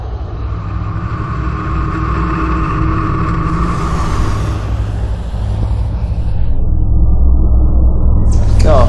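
A tractor engine revs and accelerates during a speed record run. The roar is close and loud, and it builds steadily and swells near the end, with a voice faintly under it.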